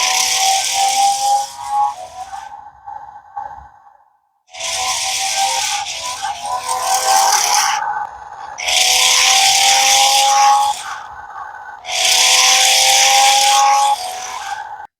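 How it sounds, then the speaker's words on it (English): An NQD RC stunt car drives sideways, forward and in reverse, its small motors giving loud rasping whirs in four bursts separated by short pauses, with rubbing and rattling of the wheels. "The car can move sideways as well as forward and reverse."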